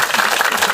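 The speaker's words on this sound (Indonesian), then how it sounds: "Oke, betul sekali. Tepuk tangan." Hands clap in a classroom as students applaud a group's presentation, a dense, steady patter of claps filling the short moment at close range.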